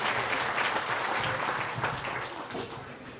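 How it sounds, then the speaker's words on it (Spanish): Warm applause for the godparents at a quinceañera celebration, a fairly quiet, steady crowd of clapping hands lasting about three seconds and slowly fading, with faint background voices. "Fuerte los aplausos para ellos"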